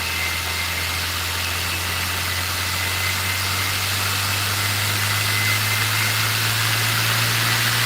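An electric motor on a home lab bench runs at high speed, giving a steady, loud, unbroken hum with a bright hiss layered on top, constant throughout with no talking.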